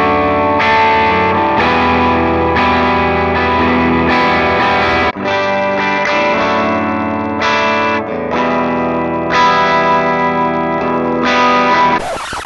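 Distorted electric guitar played through a Marshall JTM30 amp into a Celestion speaker, either the stock Marshall-branded 65-watt or a Vintage 30 in a custom Kreger cabinet, loud sustained chords and riffs with chorus-like effect, continuous and alone.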